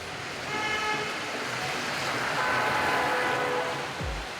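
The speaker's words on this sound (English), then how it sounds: "the sound of London's Oxford Street, the UK's most famous shopping district" Busy street ambience on London's Oxford Street shopping district, with a steady roar of traffic and passing vehicles, a long horn-like tone held through the middle, and a low rumble near the end.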